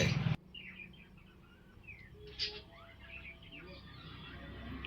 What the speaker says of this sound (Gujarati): સ્પેશિયલ ચકલી માટે અહીંયા દાણ રાખેલું છે ઉડી ગઈ